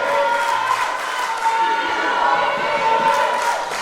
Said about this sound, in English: And listen to the crowd, Teach.